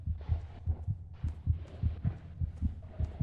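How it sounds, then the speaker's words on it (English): Steady, muffled heartbeats thump in a quick, even double-beat rhythm in the video game Among the Sleep, low and throbbing with a faint background hum. "I'm hearing constant heartbeats"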